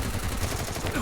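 Rapid bursts of AUG rifle fire in a shooter video game, a quick rattling string of shots that goes on for the whole second.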